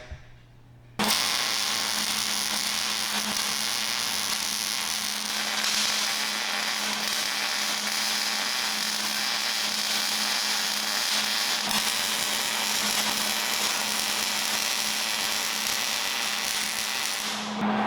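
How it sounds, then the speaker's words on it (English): Continuous MIG-style welding of brackets onto a Datsun 520 truck frame during frame repair, a loud steady crackling hiss running unbroken for most of the clip after a brief quiet start. "Plug welds are done and it's time now to weld up those brackets."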